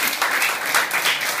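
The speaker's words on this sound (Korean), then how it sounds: "박수로 축복해 주십니다" A church congregation claps in a short, dense burst of applause, loud and even from start to finish.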